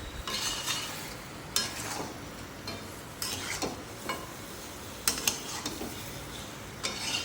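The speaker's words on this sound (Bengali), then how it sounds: "আলুগুলো দিয়ে আরও ভালোভাবে একবার কষিয়ে নেব।" Mutton curry with potatoes being sautéed in a pot, with steady sizzling broken by repeated scraping stirs and the clink of a spoon against the metal, close and fairly loud, with no talking.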